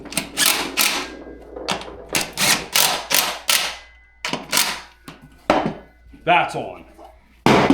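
A wrench fitted with a 14 mm socket runs a bolt down during assembly of a Garvee chest press machine, giving a string of sharp, close ratcheting clicks in quick bursts with short pauses, and someone speaks briefly near the end.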